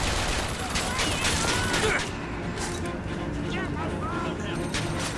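Turret gunfire in Bioshock Infinite sounds as a steady fusillade of rapid shots with crashes, dense and continuous, while a person talks over it throughout.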